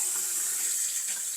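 Hot water runs steadily from a kitchen tap, a close, continuous hiss and splash with no talk, while bread dough is being prepared.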